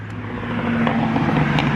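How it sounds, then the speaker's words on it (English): Loud morning road traffic rolls past on a foggy, moist morning, a steady, close roar of car engines and tyres with faint passing swells and no talk. "Super loud traffic."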